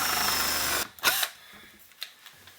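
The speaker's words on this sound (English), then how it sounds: "we're going to go ahead and drill these out with an intermediate size." A power drill whirs steadily for under a second while drilling holes in a metal amplifier chassis, then cuts off, followed by a few sharp clicks and clatters nearby.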